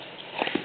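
A baby gives a couple of quick, short nasal snorts close by.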